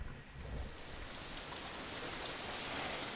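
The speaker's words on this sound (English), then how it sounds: "it starts to rain again" Steady rain falls as ambient sound in the visual novel game Katawa Shoujo, outside a girls' dormitory. It is a continuous, even hiss of rainfall with no talk.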